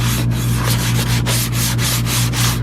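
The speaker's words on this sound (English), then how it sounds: "trying to sand off the clear coat finish of the finish that was on there before, so my new paint will stick to it" Sandpaper is rubbed by hand over an RV cabinet to remove an old clear coat finish, making rapid, rhythmic back-and-forth scratching strokes up close over a steady low hum.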